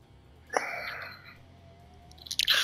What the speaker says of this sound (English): I'm just trying not to make y'all listen to me chew my protein bar.